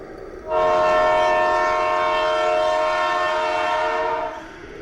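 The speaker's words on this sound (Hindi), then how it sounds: "अचानक तेज हॉर्न की आवाज गूंजी।" A loud, sustained train horn sounds near a railway platform at midnight, rising abruptly and holding steady for about four seconds before cutting off, with no talk over it.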